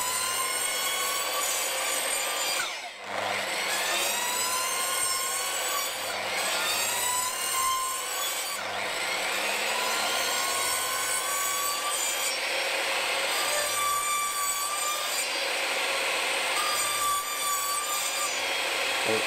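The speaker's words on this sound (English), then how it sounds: "Making a series of cuts with the chop saw." A chop saw makes a series of cuts in wood, a loud steady grinding rasp that runs almost without a break and dips briefly between passes, close to the microphone and with no voices.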